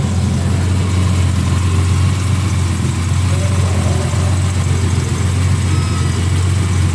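A 1972 Jaguar E-Type Series 3 automatic roadster engine idling close by, a steady low rumbling hum that holds even throughout with no revving.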